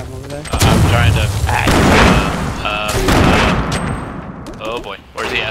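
Grenade launcher explosions in a video game, heavy booming blasts and rumbling impacts that roll on for seconds at a time. Voices talk over parts of the noise.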